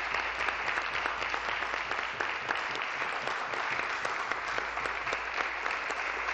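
Steady applause fills a legislature chamber during question period, a dense continuous patter of many hands clapping at moderate volume throughout, with no voices rising above it.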